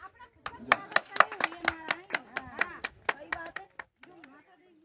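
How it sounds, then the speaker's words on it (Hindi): Scattered claps from people at a community caste gathering in Mundawar, a loose series of sharp, uneven hand slaps close by, mixed with talking voices, thinning out toward the end. "बजाओ ताली"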